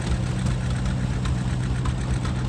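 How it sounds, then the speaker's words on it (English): Vintage tractor engines idle and rumble steadily at a tractor parade during the Arizona Flywheelers antique engine show, a continuous loud low chugging drone with no talk. "the tractor parade for the 35th annual Arizona Flywheelers Show."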